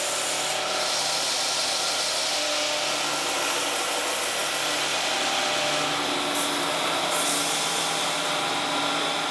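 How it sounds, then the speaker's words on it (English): A belt grinder running a coarse 36 grit belt shapes an African blackwood knife handle, giving a loud, steady abrasive roar that continues throughout with slight swells as the wood is pressed into the belt. "I took that piece of African blackwood over to the belt grinder and started grinding it to shape with a 36 grit belt."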